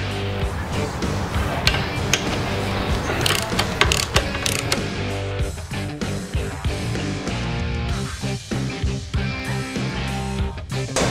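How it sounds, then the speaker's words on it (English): A hand ratchet clicks rapidly and repeatedly while loosening the upper and lower rear shock bolts on a motorcycle during a lowering kit install, close and loud, with metallic clanks mixed in and no talk. "I'm going to remove the upper and lower shock bolts and yank this sucker out of there."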